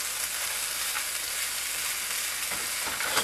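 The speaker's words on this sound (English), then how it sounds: "Stir that in." Cottage pie filling sizzles in a frying pan while being stirred, a continuous close, even hiss with no voices.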